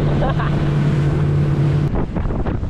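Strong east wind and choppy waves hit a small boat heading west, a loud steady roar of wind and engine hum with splashing, the drone cutting out near the end as water noise continues.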